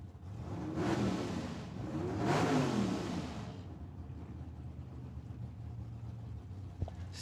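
Drag race cars at Tucson Dragway accelerate hard off the line, two loud roaring engine sweeps rising and passing, then fading into a lower distant rumble.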